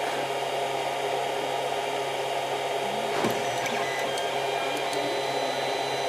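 A Creality CR-10 3D printer at work on its first print, a steady whirring hum of fans and motors with a few faint clicks and taps partway through, close and constant with no speech.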